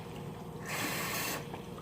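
Tap water runs into a pet's water bowl as it is washed out, a steady splashing rush that swells for about a second, then drops back to a quieter trickle and drip.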